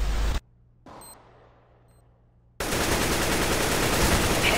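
Loud, dense burst of rapid gunfire in the video game CS:GO cuts off abruptly, followed by a quiet stretch with a faint click, then sustained loud automatic fire resumes.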